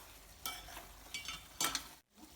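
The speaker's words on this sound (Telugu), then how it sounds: "గోంగూర అండ్ చికెన్ కూడా ఆయిల్లో మంచిగా మగ్గిపోయింది" Gongura sorrel leaves and chicken cooking in oil, heard as a quiet low sizzle with three short bursts of stirring scrapes from a spoon in the pan.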